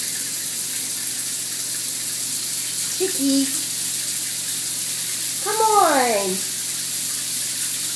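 Shower water running steadily in a bathroom, a constant close hiss throughout, with someone briefly speaking to a pet chicken over it.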